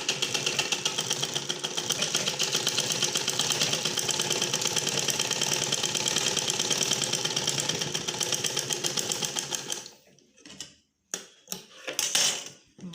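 A sewing machine stitches a seam in lungi cloth, running as a fast, even mechanical whir for about ten seconds before stopping, followed by a few short bursts of stitching close by.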